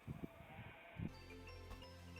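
A Shetland sheep bleats once, faint and somewhat distant, after a few soft knocks, with a steady hum underneath.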